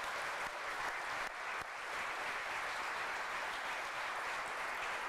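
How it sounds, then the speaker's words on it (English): Applause from the audience at a community college all-employee meeting, steady and continuous clapping that fills the room for about five seconds with one brief dip. "Let's give Brian one more round of applause"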